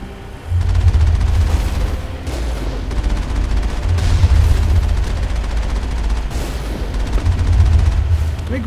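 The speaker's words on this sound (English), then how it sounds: "Oh shit, missiles." Missile blasts and gunfire in the video game Mass Effect: a loud, sustained barrage of booming impacts and rapid shots over a deep rumbling bed, surging in waves for several seconds without speech.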